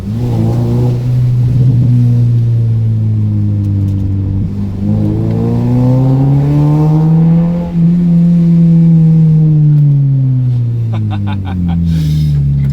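A car's engine and exhaust drone loudly and steadily while driving, rising and falling in pitch as revs climb and ease off, with a short crackle of pops near the end.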